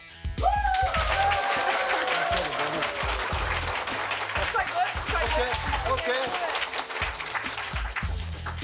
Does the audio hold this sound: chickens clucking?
no